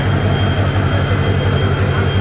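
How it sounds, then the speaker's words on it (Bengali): A loaded freight train hauling shipping containers rolls past a station in the rain, a steady, loud low rumble with a regular pulsing beat from the wagons and a constant wash of higher noise throughout. "দেখুন, বৃষ্টি হচ্ছে, তার মধ্যে দিয়ে মালের গাড়ি অর্থাৎ রেল লাইন যাচ্ছে।"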